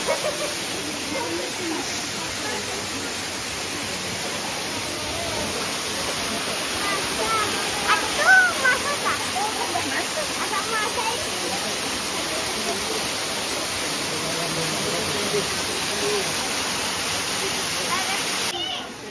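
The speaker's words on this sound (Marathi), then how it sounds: "हा बघा धबधबा किती सुंदर धबधबा" A waterfall roars in a steady, dense rush of falling water, close and loud for the whole stretch, with voices talking faintly beneath it.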